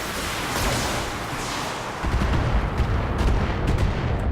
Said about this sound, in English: I'm going to fire everything.